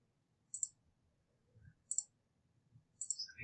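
Three short, sharp mouse clicks spaced about a second and a quarter apart while tracing a polygon lasso selection around a camper in an image editor, close and crisp over faint background hum.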